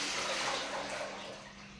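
Water poured into a wide cooking pot, a continuous splashing fill that is loudest at first and gradually softens, with no talking.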